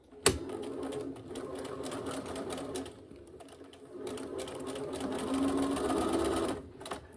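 A sewing machine stitches the pleats of a fabric face mask, starting with a sharp click and then running in steady whirring runs with a short slowdown midway before resuming close by.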